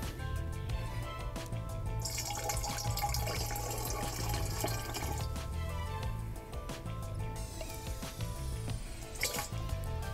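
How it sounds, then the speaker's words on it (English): Weed killer liquid is poured from a jug into a measuring container, a continuous trickling, gurgling stream with small drips, close and fairly quiet, briefly interrupted midway before pouring resumes. "you can kind of pour it halfway between and get your 2 ounces"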